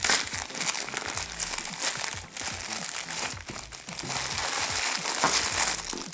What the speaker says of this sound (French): Je vais ouvrir le colis.